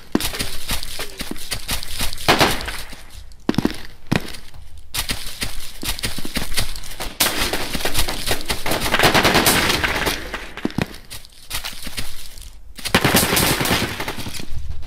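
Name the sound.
gunfire from a sniper rifle in the BRAIN / OUT video game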